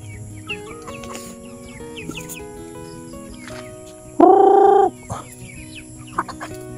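Chickens clucking around a rural backyard in the Philippine provinces, sparse soft clucks and chirps under a steady ambient hum, broken midway by one loud, sustained honking call lasting under a second.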